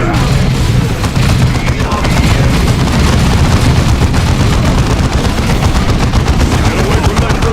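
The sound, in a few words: grenade explosions and gunfire in Warhammer 40,000: Dawn of War II video game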